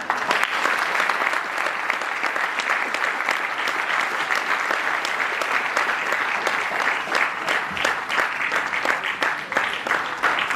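Audience applause after a stage play at an arts festival, a loud continuous wash of clapping from a large crowd sustained evenly throughout, with some voices underneath.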